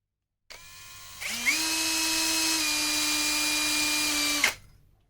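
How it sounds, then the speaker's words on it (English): A power drill bores a pilot hole for a screw while a heavy shelf with gallows brackets is fitted. A close, loud, steady whine lasts about three seconds, then spins down. "I can put a pilot hole into there parallel with that line"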